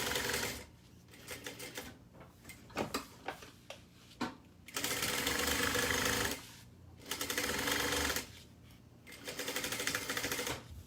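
A sewing machine runs basting stitches on a bag, loud close whirring in several long bursts separated by short pauses and small clicks as the fabric is adjusted.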